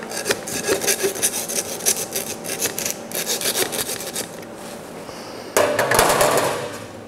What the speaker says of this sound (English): I've stopped sawing once I went through the meat, through the bone.